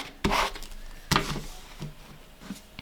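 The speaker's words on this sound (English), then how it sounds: "So I'll go over it just a little bit with the ink on my squeegee." A squeegee is drawn across a screen with ink while screen printing a glow-in-the-dark T-shirt, giving two firm rubbing swipes followed by a few softer, shorter scrapes, close and without talk.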